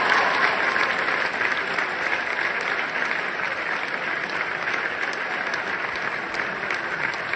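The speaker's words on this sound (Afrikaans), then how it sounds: "Geef hulle nog 'n hande klap." School audience applauding top matric students at Hoërskool Durbanville, a sustained crowd of clapping hands filling the room, loud at first and gradually easing slightly while continuing throughout.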